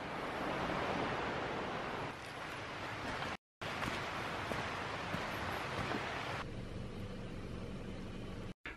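Wind gusts across a mountain campsite in a broad, rushing roar with buffeting on the microphone. The level surges and eases and briefly drops out twice. It is fairly quiet and no one speaks.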